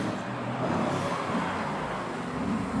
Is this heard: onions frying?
no